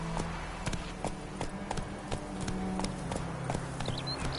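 Roach, the horse in Witcher 3, gallops with rapid, steady hoofbeat clip-clops close by over continuous game ambience.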